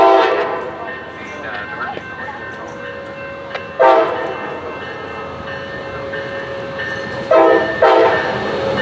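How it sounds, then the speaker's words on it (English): Commuter or Amtrak train number 777 pulling into Glendale station, a steady rail rumble and rolling clatter with sharp horn blasts near the start and again near the end, close and loud. "Here comes 777, now arriving at Glendale."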